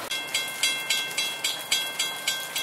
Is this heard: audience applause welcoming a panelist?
no